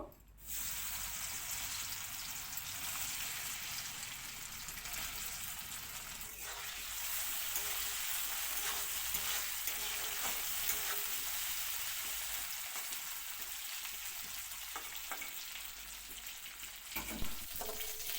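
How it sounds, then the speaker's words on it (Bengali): Gram-flour coated soybean pieces fry in hot oil, giving a steady, dense sizzle that runs the whole time, with occasional stirring clinks and no talking. "এবার বেসন মাখানো সোয়াবিনগুলি অল্প অল্প করে ভাজা করতেও লাগবো"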